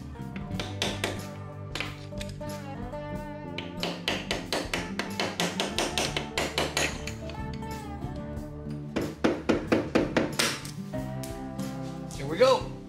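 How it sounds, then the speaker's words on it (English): A screwdriver taps against a key in a Shovelhead motorcycle transmission to pop it out. Quick bursts of close, sharp metallic taps come in clusters with short pauses, and someone talks in between. "Maybe give it a little tap, a little screwdriver should hopefully pop out."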